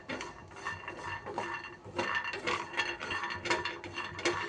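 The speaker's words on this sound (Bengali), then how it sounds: "আমি এখানে কাঁচা বাদামটাই শুকনো খোলায় একটু ভেজে নিচ্ছি" Raw peanuts dry-roasting in a small pan over low flame, stirred so they rattle and scrape against the metal in steady, close, quiet bursts with no talking.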